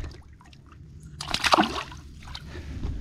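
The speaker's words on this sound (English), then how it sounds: "Let's get him back in the water." A bass released back into a small Florida river makes a brief, close splash and slosh of water, followed by light dripping and trickling against a quiet outdoor background.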